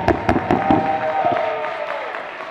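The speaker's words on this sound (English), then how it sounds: "I need you to give as much energy and your loudest applause" A live audience applauds and cheers for Jared Cott as he is brought onstage, with dense clapping, bright whoops and scattered sharp bursts that rise near the start and then hold at a steady roar.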